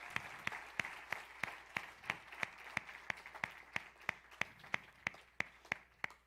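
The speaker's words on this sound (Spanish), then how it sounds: "Démosle un fuerte aplauso a Jesús por eso." Sparse, evenly spaced claps ring out in a church, one sharp clap after another at a steady rhythm, fairly faint and with no talking over them.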